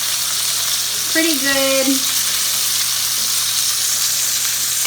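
Sausage sizzling and searing in a pan for stovetop mac and cheese, a steady broadband crackle throughout with a brief spoken remark partway through.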